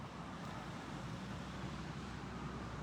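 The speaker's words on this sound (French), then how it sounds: "j'entends les voitures passer" Cars pass on a nearby road in a steady, continuous outdoor traffic rumble that stays at an even, moderate level, with no distinct individual pass-bys and no talking.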